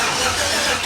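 A car engine cranks in a short burst of steady mechanical whirring, as if struggling to catch on a hesitant start.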